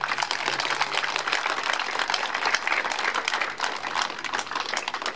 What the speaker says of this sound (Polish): proszę o duże brawa dla pana naczelnika